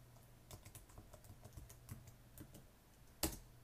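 Soft typing on a Mac computer keyboard, scattered irregular key taps at close range with one sharper, louder keystroke near the end.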